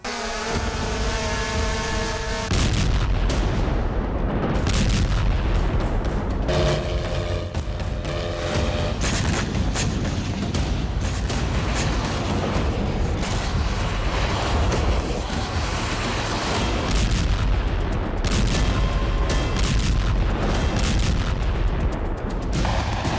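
Wartime blasts in Crimea and Odesa: loud, dense booms and crackling fire roll on almost without pause, with a heavy low rumble and sharp reports layered over each other.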